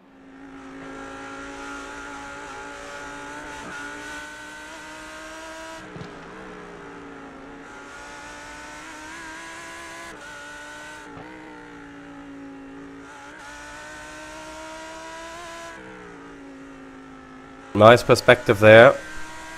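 A Lamborghini race car in a sim racing league event roars continuously, rising and dropping through gear changes with steady revving, while a commentator talks briefly and a louder burst of engine noise arrives near the end.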